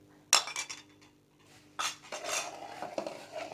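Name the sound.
mixing milk and sugar into halwa in a pot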